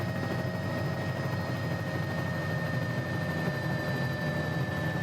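Simulated Bell 206 L3 Long Ranger helicopter turbine spooling down after the throttle is rolled off, in Microsoft Flight Simulator: a steady, loud whirring drone with high tonal whines held throughout, no talking.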